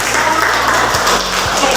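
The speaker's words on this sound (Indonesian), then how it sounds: "kasih tepuk tangan dong" A classroom of students clapping together in brief steady applause, with a low hum running underneath.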